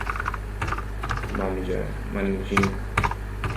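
Someone types a letter on a computer keyboard, with a run of irregular, fairly close key clicks under a low background hum while a voice speaks briefly.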